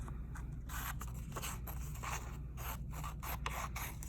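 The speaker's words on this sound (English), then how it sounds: "And then we'll cut them out on the dotted line" Scissors snip through paper along a dotted line, a run of short crisp cuts and scraping strokes at close range over a steady low background hum.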